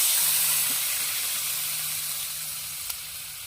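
Water goes into a hot cooking pot holding pork broth for pork kare-kare, producing a steady steamy sizzle and hiss that slowly fades, with a faint faraway click near the end.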